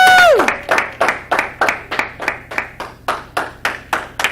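An audience gives a round of applause: a steady, rhythmic run of about a dozen sharp claps, close and loud, after a brief whistling tone at the start.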